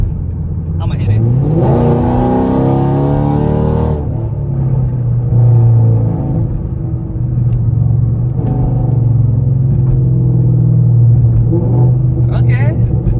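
A car's engine revs hard as the driver floors the throttle, a loud rising roar that settles into a sustained mid-pitched drone, with people talking over it inside the cabin.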